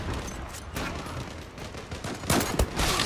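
Team deathmatch gunfire in the online shooter Zula crackles in quick irregular bursts, with several sharp, loud shots near the end.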